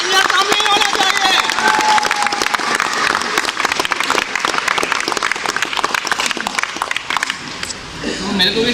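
Sustained audience applause at a Vestige car achiever event, dense and continuous clapping that fades toward the end as voices come through.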